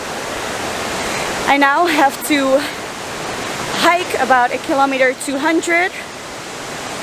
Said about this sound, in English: Excuse the noise of the river, it is rainy season, so there is a lot of water coming down.